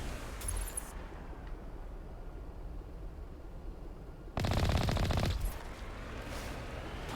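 Enemy gunfire in Mass Effect Legendary Edition: a brief burst at the start, then a louder sustained stretch of rapid automatic fire lasting about a second, over a low rumbling game backdrop.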